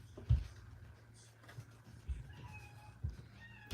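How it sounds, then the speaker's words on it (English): A cat meows outside wanting to be let in, several short, faint calls spaced a second or so apart over low background noise. "oh, I hear a cat meowing"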